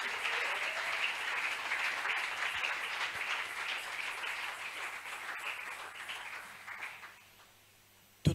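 A church congregation at a thanksgiving week service applauds together in a sustained wash of clapping and cheering that fades out toward the end.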